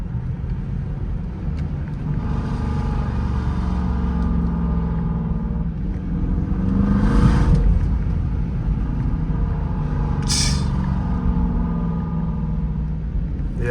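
A Dodge Durango R/T with a straight-pipe exhaust and mid muffler delete rumbles deeply and close by, its drone swelling to a louder surge midway before settling back to a steady growl.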